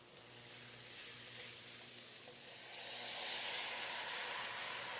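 Canned diced tomatoes land in a simmering chickpea stew with a faint, steady sizzle and hiss that swells slightly partway through, low in level.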